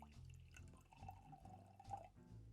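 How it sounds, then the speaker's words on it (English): Water pours steadily from a plastic bottle, a gurgling, splashing stream lasting about a second and a half with faint trickles around it. "Let's give it a pour."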